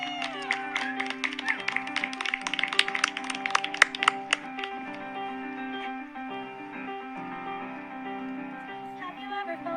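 Instrumental opening of a musical theatre song, with steady sustained chords underneath and a busy run of bright, crisp percussive hits in the first four seconds that then thins out into held harmonies.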